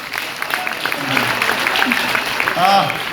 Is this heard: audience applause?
yes